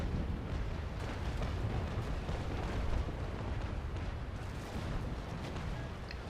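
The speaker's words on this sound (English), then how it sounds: "some of his cannonballs hit, most are missing" Naval Action battle with cannons booming and cannonballs striking, a dense, continuous rumble of heavy low-end blasts and crashes, loud and sustained with no talking.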